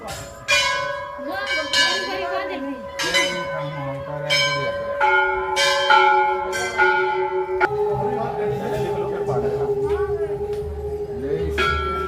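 Large temple bells of five to ten kilograms in Nainital ring one after another, overlapping strikes with long shimmering decays, loud and close, while people talk faintly underneath.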